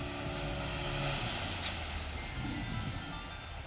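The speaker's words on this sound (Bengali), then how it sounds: "এই দেখুন স্পিড বোট রাইড।" A speedboat engine drones steadily and loudly through a short stretch of a speedboat ride at a park, a continuous roar with no breaks.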